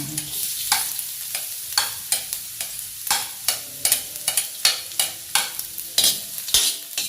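Garlic, onion and ginger sizzle in a hot pan for laing, with a steady frying hiss under a regular series of loud scraping stir strokes from a spatula, close up and without talk.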